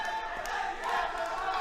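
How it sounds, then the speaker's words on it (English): An MMA event crowd keeps up a dense, continuous roar of voices under a commentator's talk. "You can see the crowd screaming out his name."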